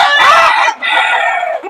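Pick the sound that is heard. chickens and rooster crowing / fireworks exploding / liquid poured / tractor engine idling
chickens and rooster crowing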